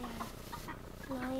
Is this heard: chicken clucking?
yes